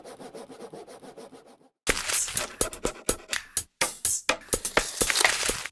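A saw cuts through wood at the bottom of doors during a nailed wooden floor installation: close, loud, rhythmic back-and-forth strokes, with a softer rasping stretch before a brief pause.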